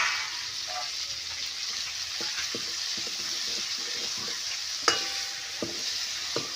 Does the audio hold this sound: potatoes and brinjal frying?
yes